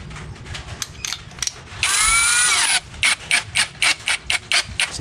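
A Keelat 4-in-1 portable power drill bores into cement, starting with a steady high whine that grinds through the material, then breaking into a series of short, punchy bursts.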